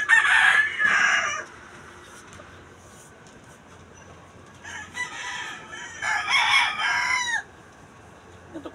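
Rural chickens out by a farm field: a rooster crows near the start and again a few seconds later, with scattered clucking and a quiet pause between the calls.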